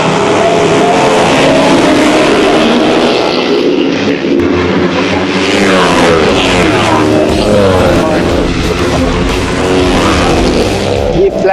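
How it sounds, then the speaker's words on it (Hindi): Off-road motorbikes racing a 2024 flat track event in Georgia roar loudly and continuously, engines rising and falling in pitch as they rev and pass close by, with a crowd or commentary murmuring underneath. "ये फ्लैट ट्रैक बाइक इवेंट है"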